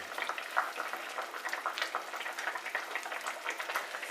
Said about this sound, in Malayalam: നമ്മുടെ കറി തിളച്ചിട്ടുണ്ടെന്ന് തോന്നുന്നു